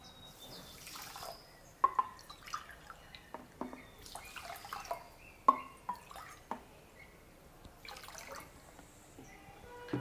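Water is poured onto 2 cups of sugar (about 400 g) to make syrup for gulab jamun, with soft, quiet splashes and scattered drips in a kitchen.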